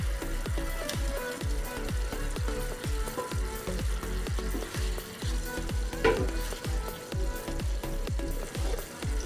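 Fried potatoes tossed into spice masala sizzling in a pan while making Bengali banana stem ghonto, giving steady loud frying hiss with regular stirring scrapes throughout and one sharper clatter midway; no talking.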